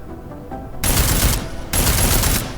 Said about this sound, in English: Notice the recoil on the combat rifle. It's actually very heavy. I mean, listen to it.